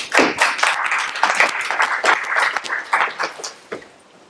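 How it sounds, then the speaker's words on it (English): Applause from a student government assembly audience, a dense crowd of hand claps lasting several seconds before tapering off near the end. "Thank y'all for that applause"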